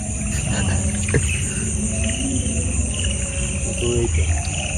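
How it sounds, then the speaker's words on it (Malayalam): Frogs croak at night by the water during a fishing outing, forming a dense, continuous chorus with scattered louder calls close by. "തവളകളുടെ കളകളാരം."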